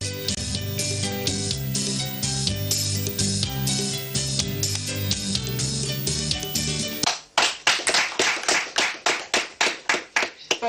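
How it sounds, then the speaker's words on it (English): Applause for competition contestants at the end of a stage of a live broadcast contest, first under steady music with rhythmic beats, then breaking into loud, uneven bursts of clapping near the end. "A round of applause for the contestants again,"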